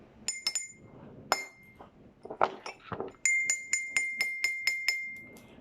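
A few scattered taps on a glass, then a steady series of bright, ringing clinks, about eight evenly spaced strikes, close and clear.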